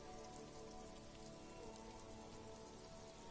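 Steady rain patters on a hard surface in the video game Disco Elysium, a soft, even hiss of drops with no pauses and no voices.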